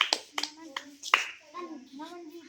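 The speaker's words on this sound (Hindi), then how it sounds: "ये जीत गई। ताली बजाओ।" Children clap in a short, loose burst of a few sharp claps for the winner of a classroom game, while an adult and children talk over and after it.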